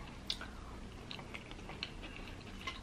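Crunchy Chipotle tortilla chips are chewed close up, with a steady run of crisp, brittle crunches and small clicks spread over a few seconds and no talking.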